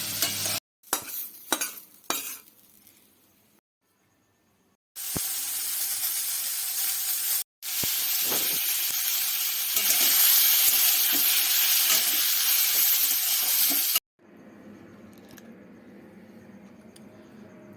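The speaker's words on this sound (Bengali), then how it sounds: "আবার ওই একইভাবে আলু আর গাজরগুলো সামান্য লবণ দিয়ে ভেজে নেব।" Potatoes and carrots frying with a little salt in a pan: a few sharp clinks open, then a loud, dense, steady sizzle runs for several seconds before dropping to a quieter simmering hiss, close up and with no voices.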